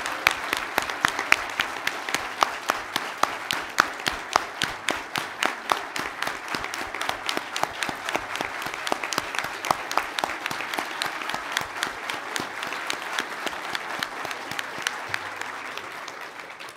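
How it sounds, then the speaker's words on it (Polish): A large crowd at an election night event applauds steadily, with dense, even clapping that stays loud and continuous throughout, with no voices over it. "To dla nich brawa."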